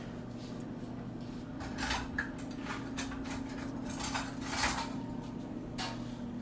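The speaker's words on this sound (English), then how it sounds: "So we got perfect rice. Just gotta fluff it." A utensil scraping and tapping through freshly cooked instant rice in a pot, with soft repeated clinks and scrapes at an uneven rhythm over a steady low hum.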